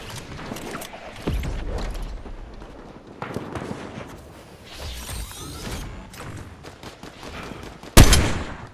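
Gunshots ring out in Fortnite among mechanical clicks and scattered bursts of fire, ending in one sharp, loud shot near the close.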